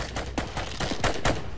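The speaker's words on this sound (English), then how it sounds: "Oh, he shot me." Gunfire in the Roblox survival game Trident Survival: a rapid string of five or six sharp, fairly loud shots at uneven intervals, with no talk over them.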